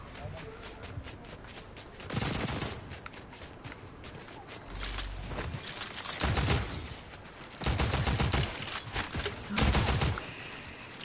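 Gunfire from the video game Fortnite crackles in bursts of fusillade and rapid shots amid footsteps and game effects, with a player talking over much of it.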